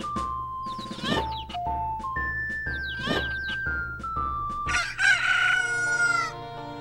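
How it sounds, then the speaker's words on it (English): Cucco chickens in the video game Majora's Mask, a flock crowing and clucking in a rapid run of loud, close calls, some rising in pitch and overlapping, ending in a longer squawking burst. "All the cuckoos parading around."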